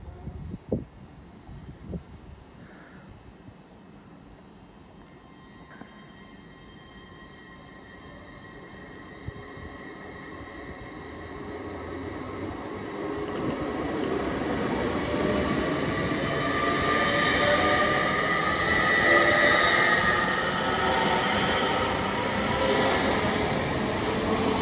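A Great Western Railway Class 800 train at Bristol Parkway approaches from faint to loud, its rising whine and rushing wheel noise building steadily and peaking near the close.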